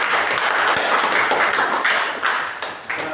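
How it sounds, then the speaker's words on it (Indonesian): In a classroom, a loud, continuous wash of clapping from many students fills the room for a student group, dense and unbroken, with little talk. "Tepuk tangan buat kelompok"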